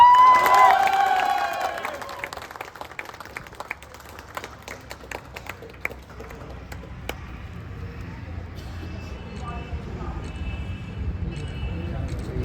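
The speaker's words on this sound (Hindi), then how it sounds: "धमाकेदार तालियों के साथ अजय सर को शुभकामनाएं देने के लिए आप अभिनीत सर के लिए जोरदार तालियां" Audience at a motivational business meeting bursts into loud applause and cheering at the start, quickly fading into scattered claps and room noise.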